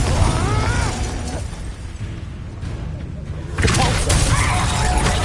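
Confringo fire blast spell cast in the Hogwarts Legacy video game, a loud roaring burst of broadband noise sustained through the moment, with a shouting voice over the start and end.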